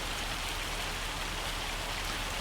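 Steady rain in the farming game Farming Simulator 25, a dense, even hiss of falling drops spread across the whole clip with no gaps, moderately loud and with nobody speaking over it.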